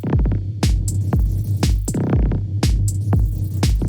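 An Arturia Efx Fragments granular effect, pitched an octave higher, chops a sound into a steady pulsing stream of repeated grains over a low droning hum, loud and rhythmic.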